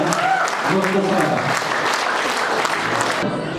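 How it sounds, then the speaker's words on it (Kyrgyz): Audience applause for young people at a Kyrgyz youth gathering, a short burst of steady clapping from a room full of listeners that cuts off abruptly near the end. "Ушул жаштарга да бир кол чаап коелучу"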